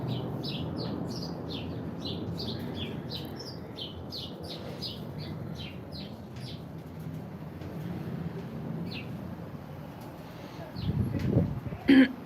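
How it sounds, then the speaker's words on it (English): Many small birds chirping in a tree, a busy run of quick high tweets over low background rumble that thins out toward the end, with a brief louder disturbance at the finish. "So many birds just flew in here."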